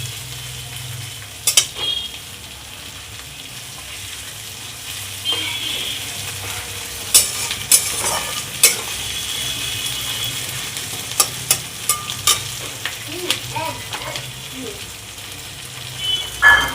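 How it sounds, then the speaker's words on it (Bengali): Grated ginger fries in hot tempering oil in a pan, a steady soft sizzle with scattered pops and a few louder stirring scrapes and clinks against the pan, no talking. "আদাটা একটু ভেজে নেব।"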